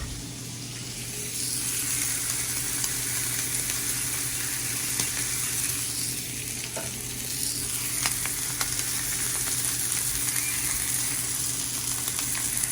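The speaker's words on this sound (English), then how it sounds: "I'm gonna grill these onions. I'm going to grab some oil. I'm gonna put it on the onions." Onions grilling in oil for a pastrami sandwich give a steady, close sizzle that holds for the whole stretch, with a few faint clicks and scrapes over it.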